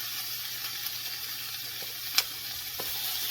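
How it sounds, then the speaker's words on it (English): Onions and peppers sizzle in hot oil, a steady close hiss with one sharp clink of a utensil and a faint stir, no voices over it. "I'm gonna add the onions and the peppers"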